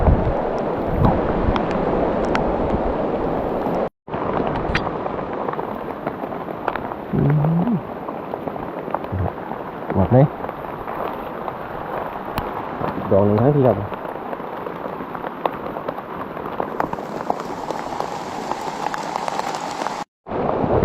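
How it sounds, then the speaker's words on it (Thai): Rain falls outdoors during mushroom picking, a steady broadband hiss that runs through the whole stretch, with faint voices and a few brief knocks and rustles near the mic. "ฝนตก"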